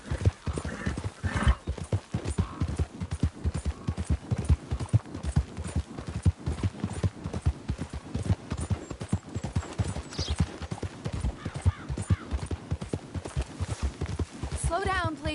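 A horse gallops in the Red Dead Redemption 2 video game, its hooves beating in a fast, steady rhythm the whole way through. A voice speaks briefly over the hoofbeats and a short whinny is heard.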